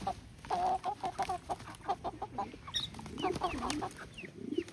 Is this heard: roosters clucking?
yes